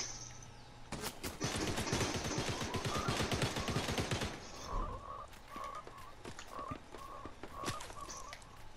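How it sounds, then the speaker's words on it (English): Rapid automatic gunfire in the Fortnite video game, a loud sustained burst of close shots for a few seconds, then quieter scattered game sounds with no talking. "He's shooting at Bree"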